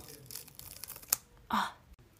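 A special effects makeup prosthetic is peeled from skin with soft sticky crackles and a few sharp tearing rips, close and quiet.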